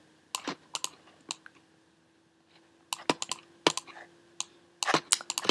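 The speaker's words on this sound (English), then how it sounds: "I have a hard time talking and typing at the same time" Computer keyboard typing in bursts of quick, crisp key clicks separated by a pause of near silence, close and fairly quiet, while lettering is entered in Cricut Design Space.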